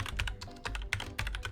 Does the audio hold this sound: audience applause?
no